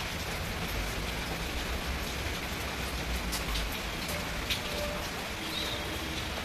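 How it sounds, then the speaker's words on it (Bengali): Heavy, continuous rain pours down after days of steady downpour, a dense, even roar of drops drumming on surfaces throughout, with no voices. "কীভাবে ঝমঝম করে বৃষ্টি পড়ছে"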